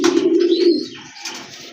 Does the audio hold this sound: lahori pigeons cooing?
yes